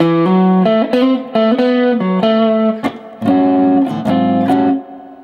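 Major blues lick on an electric guitar through an effects unit with mild distortion: hammered-on and slid double-stop phrases in a bouncy rhythm, bright and up close, punctuated by percussive muted strums, no voices.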